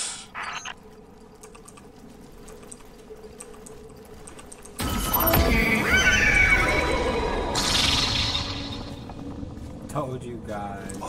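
A horse neighs in the Destiny 2 video game, a loud, drawn-out whinny breaking in after quiet ambience and trailing off, with a speaking voice and faint clicks around it.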